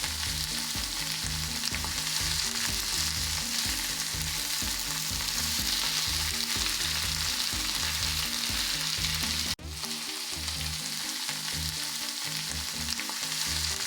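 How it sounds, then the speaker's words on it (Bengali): Potato balls deep frying in plenty of hot oil over high heat, a steady loud bubbling sizzle throughout, briefly dipping near the end before resuming. "এবার একটি একটি করে আলুর গোল্লাগুলো তেলে ছেড়ে দিন"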